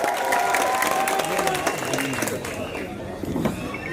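A crowd at a ward election meeting applauds to welcome a speaker, with dense clapping mixed with crowd murmur and voices, fading gradually over a few seconds.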